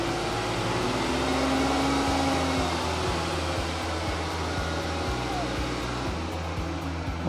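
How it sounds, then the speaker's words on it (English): A car engine holds a steady raised idle of about 2500 RPM during a battery ripple test, producing a continuous loud mechanical hum with a fan-like whoosh throughout. "Now it says increase the RPMs to 2500 and keep it there for 5 seconds."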